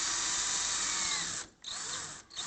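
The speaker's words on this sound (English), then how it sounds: "You can use either a screw gun or a regular handheld screwdriver." A screw gun drives door knob screws in short, close whirring bursts, the motor whine cutting out twice in quick succession.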